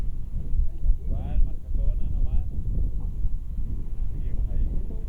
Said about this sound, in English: Wind seems to have eased a little bit, still strong, but eased a little bit and steadied in its direction.